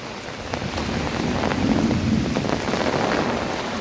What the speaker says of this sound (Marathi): चारही बाजूला पाऊस भरपूर आहे सर्व ठिकाणी पाऊस चालू आहे सध्या